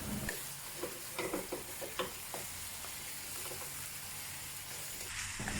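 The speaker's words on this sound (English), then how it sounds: "Cook the ground beef over medium heat and flip over from time to time." Ground beef fries over medium heat in a pan, giving a steady close sizzle and hiss, with intermittent scraping taps as the meat is flipped.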